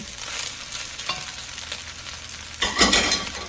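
Thai crab fried rice is stirred and broken up in a hot pan, a steady sizzle with scraping turns of the spatula and a louder burst of stirring near the end.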